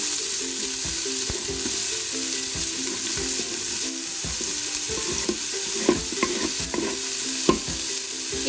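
Onions, garlic and green chillies sauté in an Instant Pot, a steady close sizzle of frying with scraping stirs and occasional sharper clinks of a spoon against the pot, no voices.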